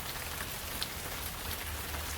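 Gentle rain falling in a steady, even patter of drops, close and continuous with no voices or other sounds.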